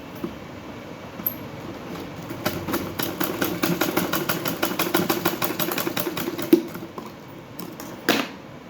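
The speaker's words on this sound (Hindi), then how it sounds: "ऐसे ही मैं इसे आगे की तरफ लगा के और सिलाई लगा दूँगी इस पर" A sewing machine runs a seam along the side of a lined suit, quiet at first, then a fast, even mechanical clatter for several seconds, stopping before a couple of sharp handling knocks near the end.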